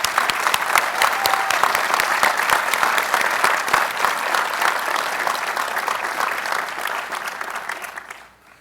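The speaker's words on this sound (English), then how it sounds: "Let's give him a round of applause to show our appreciation." A university commencement audience at Carnegie Mellon claps in a loud, dense ovation that holds steady for about eight seconds before quickly dying away.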